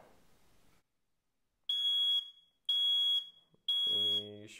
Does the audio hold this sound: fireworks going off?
no